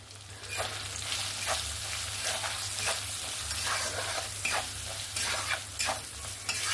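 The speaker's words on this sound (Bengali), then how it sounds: "মশলাটা এখানে আমার সুন্দরভাবে ভেজে নিয়েছি।" Turmeric, hot chili powder and Kashmiri chili powder fry in hot oil for a mixed dal: a constant close sizzle, with stirring scrapes coming back every second or so.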